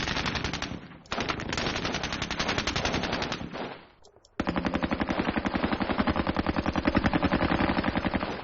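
Computer war game gunfire from a DP machine gun and rifles, loud rapid bursts of automatic fire in two long strings separated by a brief pause.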